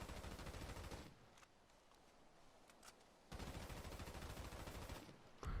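Gunfire in the video game GTA V: two long bursts of loud, rapid shooting separated by a quieter gap with a few isolated shots, then a final blast at the end.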